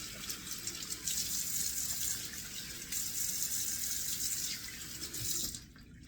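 Tap water runs steadily into a bathroom sink while someone rinses their face after shaving, a continuous close hiss with small splashy surges that cuts off abruptly near the end.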